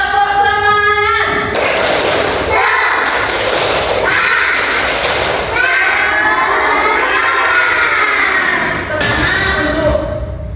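Children in an Indonesian classroom shout the 'tepuk semangat' clapping chant together, a loud, steady crowd of young voices with rhythmic claps and cheering-like bursts filling the whole stretch.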